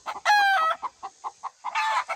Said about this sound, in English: Boy's a pretty rooster.